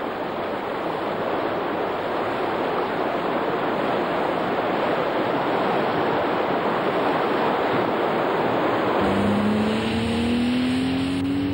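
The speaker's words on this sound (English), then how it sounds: "On a wet road at low speed, you can see how the aqua channel is evacuating almost all the road surface water out the back of the tire" Goodyear Aquatred tires roll through standing water on a wet road at low speed, giving a loud, continuous hiss and wash of spray, with a rising engine or tire tone near the end.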